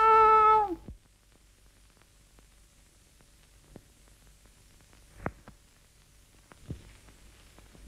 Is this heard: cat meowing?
yes